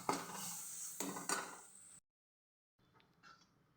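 A spoon scrapes and clinks in a bowl while mixing dry spices, lemon juice, ginger and chilies, with rhythmic scraping strokes, then a short silence and softer, quieter scrapes.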